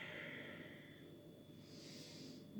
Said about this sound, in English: And then let's take another deep breath here.